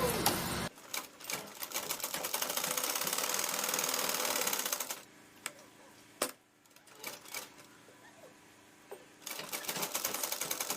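A sewing machine stitching a lined blouse runs in rapid rattling bursts, pausing and restarting several times, close and fairly quiet.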